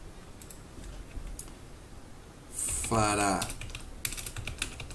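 Fingers type on a computer keyboard while coding in Arduino, a quiet stream of scattered key clicks with a short burst of speech in the middle and more taps after.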